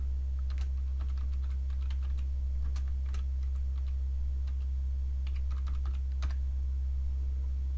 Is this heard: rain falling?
no